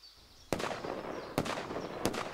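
Three sharp gunshots in an anti-Japanese war film ring out about a second apart, each a crisp crack over a faint hissing background.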